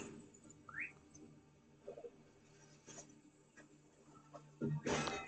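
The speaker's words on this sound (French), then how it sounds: "Je vais encore siffler." A short rising whistle in Assassin's Creed Odyssey, then quieter game ambience with faint clicks and a louder burst of noise near the end.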